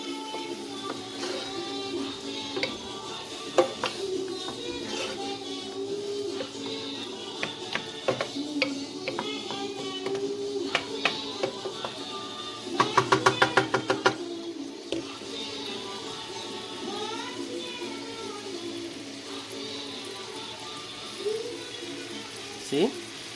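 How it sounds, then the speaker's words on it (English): Shrimp sizzling in butter in a pan for shrimp fried rice, a steady crackle and hiss running close and continuous, with a short burst of sharp pops partway through and a person speaking over it. "My shrimp's gonna fry in some butter"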